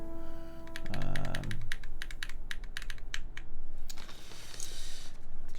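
Typing on a custom-built mechanical keyboard sounds as rapid, crisp clacking keystrokes in an uneven rhythm, close and clear, after a brief tonal chime at the start.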